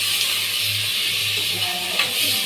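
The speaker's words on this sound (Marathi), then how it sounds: "आता आपण टमाटे टाकू." Tomatoes dropped into a hot frying pan set off a steady, close sizzle and hiss that holds evenly for a couple of seconds, with a faint clink near the end.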